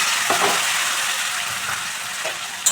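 Cumin and coriander powder, Kashmiri chilli powder and chopped tomato fry in a pan, a dense close hiss of sizzling oil with a few faint spatula strokes and a small clack at the end.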